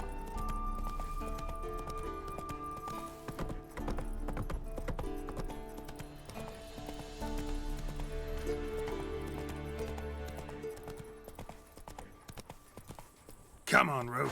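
Horse hooves clip-clop at a gallop in The Witcher 3 as Geralt rides his horse Roach, a rhythmic drumming under game music and other in-game sounds, with a brief whinny near the end.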